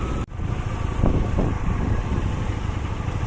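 Motorcycle riding on a road toward Sulur, with a steady engine drone and wind rumble throughout and a brief dropout near the start.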